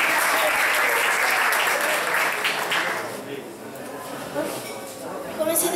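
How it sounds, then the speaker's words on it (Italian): Audience applause at a live stage event in a theatre hall, a dense sustained wash of clapping that starts loud and gradually thins out, swelling again briefly near the end. "Un applauso per il coraggio."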